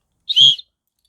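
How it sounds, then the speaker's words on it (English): A general-purpose plastic whistle blown once, giving a single short, shrill, bright blast lasting about a third of a second, close and loud in otherwise silent surroundings. "first whistle works fine, just a general plastic one."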